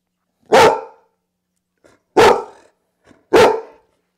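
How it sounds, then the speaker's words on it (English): A dog being trained barks three times, each bark loud, close and sharp. Pauses of over a second separate the barks, with faint small noises between them. "Now I will work on his barking."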